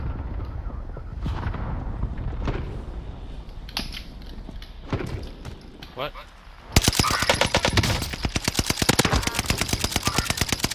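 Rapid automatic gunfire in the video game Warzone, scattered single shots giving way to a loud sustained burst of dense repeating fire in the second half.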